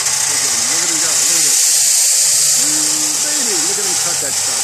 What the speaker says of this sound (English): Cutting that metal in half.